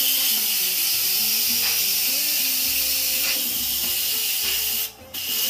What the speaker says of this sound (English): Now we might have to release the steam valve.